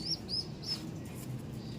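Faint high chirps repeat three times in quick succession from a young pigeon in a loft, over a low background rumble and hum.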